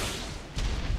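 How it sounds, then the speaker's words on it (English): An M202 rocket launcher firing in the ARK video game with a realistic ballistics mod, a single heavy low boom that swells partway through and stays loud to the end, with no talk over it. "The M202 rocket launcher fits 4 rockets and it causes massive damage."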